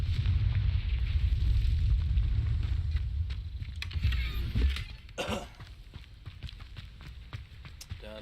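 A Confringo spell is cast in a Hogwarts video game, a heavy rumbling burst that swells and then fades into scattered clicks and lighter game effects.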